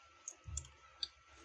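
A computer mouse gives a few sharp, close clicks, spaced irregularly against a low steady background hum.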